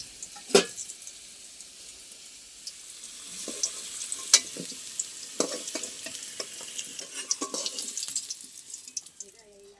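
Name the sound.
prawns frying in oil in a pan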